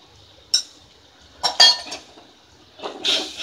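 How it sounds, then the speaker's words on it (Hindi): A spoon mixing spices with turmeric powder in a bowl for a fish curry: a few sharp, close clinks and scrapes of metal against the bowl, spaced irregularly with quiet stretches between. "मिक्स कर ले मसाले को अच्छी तरह।"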